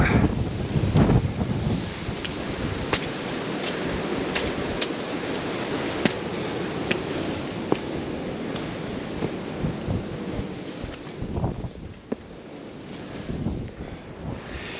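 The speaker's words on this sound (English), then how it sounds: "Ooh, wind's picking up." Strong wind gusts across a snowy winter hill on Cock Hill, a continuous buffeting rumble with wind noise hitting the microphone, rising and falling over the whole stretch with no voices.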